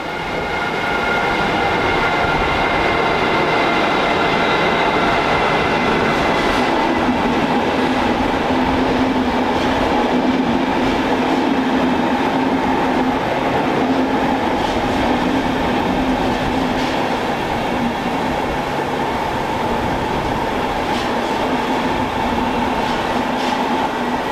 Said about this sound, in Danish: Vognene blev efterfølgende rangeret ud til Belvedere